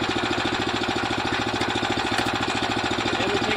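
A small Harbor Freight engine on a VW bus go-kart runs steadily, its rapid even putter and mechanical clatter close and loud throughout with no voices.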